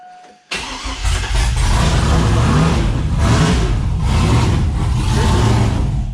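A 5.3 V8 fitted with a Texas Speed 224r cam fires up on first start and settles into a loud, lumpy, continuous run right up close, with no talking.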